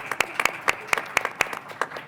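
McGeorge students applaud themselves at a lecture, a sparse, uneven patter of individual claps from a small group, each clap sharp and distinct against a quiet room.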